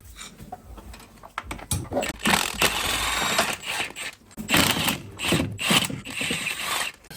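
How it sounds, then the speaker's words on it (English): Bolts being loosened from the engine assembly of a salvage, crash-damaged 2024 Buick Enclave Avenir, heard as bursts of ratcheting wrench clicks and metallic mechanism rattles, close and fairly loud, starting and stopping in short runs with no talking. "Now it's time to start removing all these bolts that secures the engine assembly."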